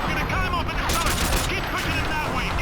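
Rapid bursts of gunfire from the video game Call of Duty: Modern Warfare 2, dense and loud, with overlapping shots and explosions running continuously throughout.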